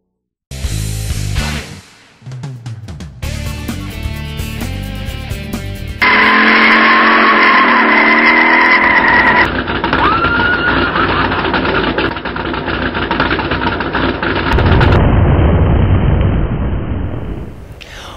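Cars racing at a drag strip: a string of loud, abrupt engine roars and bursts cut together, with sudden changes in tone and volume, no talk.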